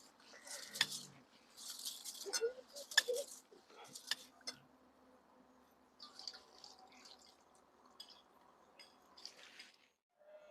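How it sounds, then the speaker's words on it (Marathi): Rice being washed by hand in water in a vessel: intermittent splashing, swishing and dripping in uneven bursts, close and fairly quiet, with pauses between. "दोन चार पाण्याने चांगलं तांदूळ धुवून घ्यायचं"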